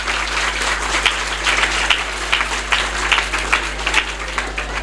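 Audience applause at an end-of-year school party at a private school, steady clapping from a crowd with a constant low hum underneath, individual claps popping out in rhythmic bursts.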